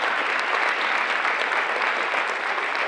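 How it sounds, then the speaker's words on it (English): A crowd at a high school fall sports awards night gives a steady, full round of applause, a dense continuous wash of clapping that holds at even loudness throughout without any talk. "Big round of applause for Mrs. Garvin."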